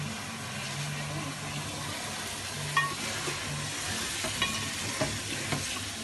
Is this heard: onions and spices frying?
yes